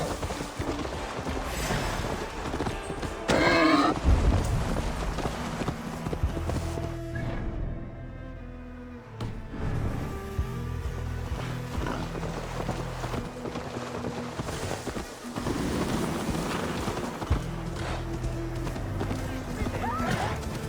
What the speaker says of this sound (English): Ride like Sleipnir's hooves! Your horse is slow, and her rider's drunk!